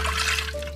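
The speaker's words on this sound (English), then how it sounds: "I'm just gonna pour that right on into these taters" Vegetable broth is poured over potatoes in an Instant Pot, a short, close, steady splashing trickle of liquid heard alone without speech.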